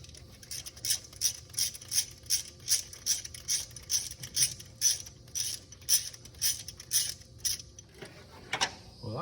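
Ratchet wrench working on spark plugs of a seized engine in a 1968 Dodge Charger, a rapid series of close, crisp clicking bursts in steady rhythm, with no talk.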